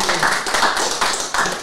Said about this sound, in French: On va pouvoir l'applaudir parce que c'est assez fabuleux.